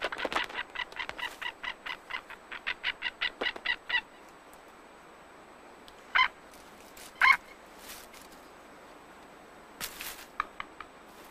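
Young birds squabble over food in a nature reserve, giving a fast run of repeated harsh calls followed by scattered louder squawks and a few short bursts of calling over quiet background.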